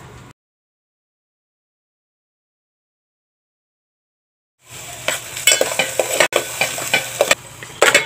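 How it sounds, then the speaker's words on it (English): Garlic and onion sauté in a pan. After a long silence, a bright steady sizzle starts partway through, with stirring scrapes on top. "Saute garlic and onion."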